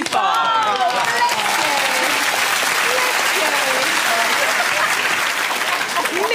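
Studio audience on a British quiz show applauding, a steady, dense wash of clapping that fills the whole stretch at even loudness, with a few cheers or voices mixed in at the start.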